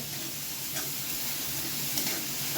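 Chopped onion with a ground masala paste and green chillies sautéing in a pan over medium heat, a continuous close hissing sizzle with faint stirring scrapes, no voices.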